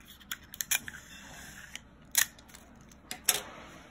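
Scissors snip through paper in a few sharp, crisp cuts, spaced irregularly with quiet gaps between them, close and fairly soft with no talking.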